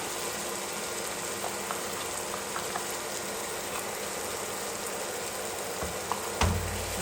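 Chili, cumin and turmeric powders frying in a pan for a chicken curry with yam give a steady, close sizzle that continues without pause, and a brief clatter of stirring sounds near the end.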